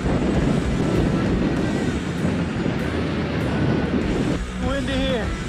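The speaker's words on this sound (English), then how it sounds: "Windy here." Strong wind buffets the microphone on an off-road hill-climb trail at Hungry Valley SVRA, a loud, constant rumbling roar, with a voice speaking briefly near the end.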